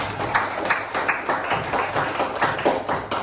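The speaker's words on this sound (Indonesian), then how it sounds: "Kasih tepuk tangan dulu dong." High school students in an Indonesian language classroom clap together in steady rhythmic bursts, a moderately loud room full of hands beating in a loose, repeating pattern.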